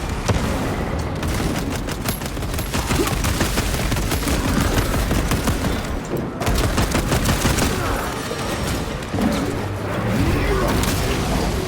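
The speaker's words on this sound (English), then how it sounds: "Frag grenade out!" Continuous gunfire and a frag grenade blast fill a chaotic Warhammer 40000: Space Marine 2 battle, with dense rapid shots and booming impacts throughout, a brief lull around the middle, and a shouted voice mixed in.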